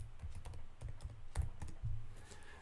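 Soft keystrokes tap out a short line on a computer keyboard while Python code is written, a few quiet irregular clicks close by with no talk.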